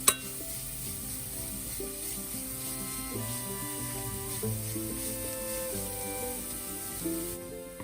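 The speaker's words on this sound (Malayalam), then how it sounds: "അപ്പം നമ്മുടെ ഇഞ്ചി ഇപ്പം കിശ സൗണ്ട് വരുന്നുണ്ട്." Chopped ginger sizzles and fries steadily in hot oil for puli inji, a continuous close hiss with faint stirring scrapes throughout.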